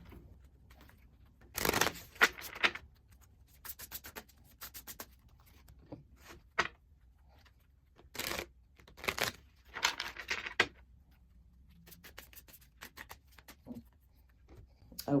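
A deck of tarot cards being shuffled in a few short, crisp bursts of riffling and flicking, with quiet pauses in between.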